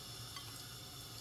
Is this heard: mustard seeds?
yes